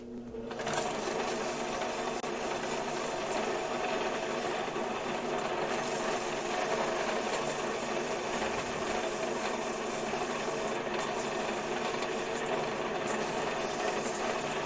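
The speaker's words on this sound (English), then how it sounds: "a little bit of sanding, I can get some really fine" Sandpaper rubs against a spinning piece of wood on a woodturning lathe, giving a steady, continuous hiss and whir for about fifteen seconds, close and unbroken, with no talk.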